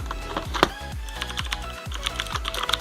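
Rapid, close typing on an Azio NGK1 mechanical keyboard with Cherry MX blue switches, a dense run of crisp clicky keystrokes with no talking.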